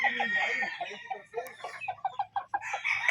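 Several derby-size gamecock bull stags of a Raptor Sweater line cluck and give short broken crowing calls close by, in quick choppy bursts with brief pauses between them.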